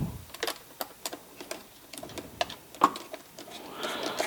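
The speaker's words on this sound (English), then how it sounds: "When you're tightening these fasteners, make sure just use the lightest torque possible" Small fasteners are tightened on the valve of a Dyson DC40 vacuum hose, a string of faint, close plastic clicks and ticks in an irregular rhythm, with a soft rustle of handling toward the end.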